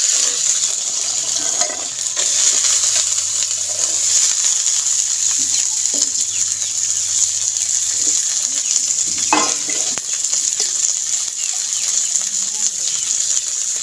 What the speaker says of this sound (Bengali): এবার আমি যে মটরশুঁটিগুলো ছাড়িয়ে রেখেছিলাম, সেই মটরশুঁটিগুলো ভেজে নেব।